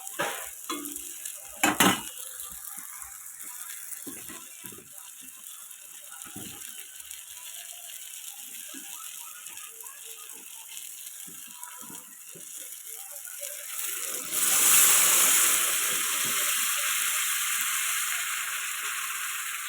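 Potatoes frying in a pan for a pangas fish curry rattle and clink as they are stirred, then a splash of water hits the hot pan and sets off a loud, sustained hissing sizzle.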